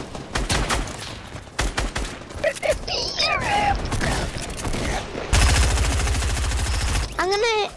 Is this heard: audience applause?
no